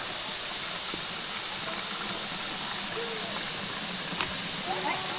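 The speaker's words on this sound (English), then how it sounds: "Waterfall." Steady broadband rush of a waterfall, constant and enveloping without breaks, with faint voices briefly audible beneath the roar.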